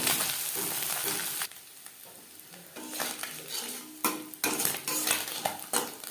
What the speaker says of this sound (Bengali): একটা সাইড ভাজা হয়ে গেলে অপর সাইডটা উল্টে দেবো যেহেতু ছোটো মাছ তাই আমি একটু কড়া করেই